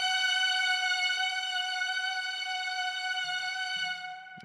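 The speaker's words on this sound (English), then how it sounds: "And this is giving us this old school string sound." A sustained synth string chord from the Omnisphere Strings of the 70s patch, warm old-school strings with tape hiss and lo-fi colour, held steadily for several seconds before fading slightly at the end.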